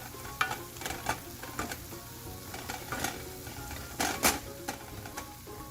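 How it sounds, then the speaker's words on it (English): Ginger garlic paste is stirred into keema frying in a pan, producing a low steady sizzle under repeated scraping strokes and sharp clinks of a spoon against the pan, with louder bursts of stirring near the end and no talking. "now I'm going to add 1 teaspoon of ginger garlic paste. Mix it well."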